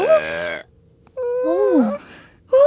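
A cartoon girl lets out two long, drawn-out burps with a wobbling, groaning pitch, loud and close, separated by a short pause, and a third begins as the sound cuts off.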